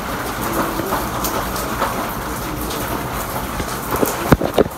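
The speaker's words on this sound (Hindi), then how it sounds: "बाहर बहुत तेज़ बारिश लग गई है" Heavy rain pours outside in a steady, loud, dense hiss, with a few sharper knocks and splashes close by near the end.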